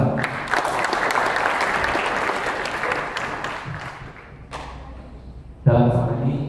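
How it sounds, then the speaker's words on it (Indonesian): An audience at an Indonesian e-learning workshop roadshow applauds sponsor Epson, sustained clapping from a full room that tapers off, followed by a thud and a voice starting to speak. "Tepuk tangan oleh Epson."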